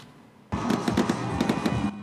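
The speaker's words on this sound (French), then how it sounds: "Le ciel de San Pedro illuminé par des feux d'artifice" Fireworks burst over San Pedro at a New Year celebration, a loud sudden onset followed by a rapid cluster of crackling, popping explosions that keep going for over a second before easing off.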